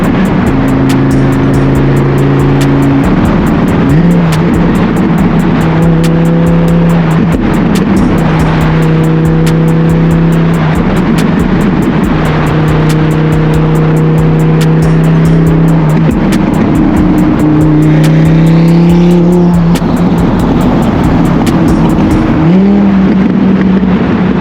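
A Porsche 911 GT3 on a spirited supercar cruise drive, its engine loud and close as it climbs through repeated rising revs and gear changes, with steady road and wind roar throughout.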